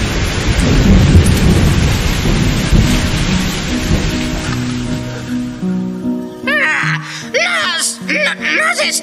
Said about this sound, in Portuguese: Nossa, quanta chuva!